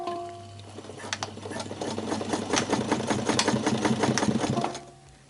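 Sewing machine stitching cheap tent fabric with a narrow stitch: a close, steady rhythmic chatter of the needle that builds up and runs for several seconds, then stops.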